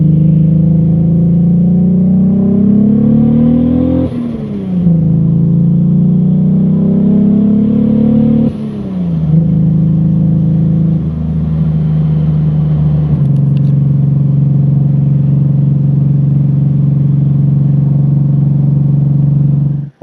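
Nissan R34 Skyline GTR engine droning loud and close while driving, rising through gears with repeated pitch climbs and shifts, then holding a steady cruise hum; no voices.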